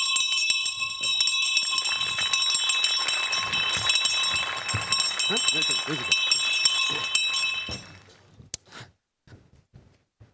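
An electric theatre bell rings continuously for about eight seconds before a stage play, a steady shrill ring under excited chatter, then it cuts off, leaving scattered quieter sounds.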